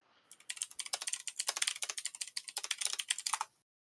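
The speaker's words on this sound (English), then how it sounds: "I guess you can hear my typing, huh?" Fast, steady typing on a new computer keyboard, a dense run of crisp clicking keystrokes over about three seconds, close and fairly quiet, with no voices.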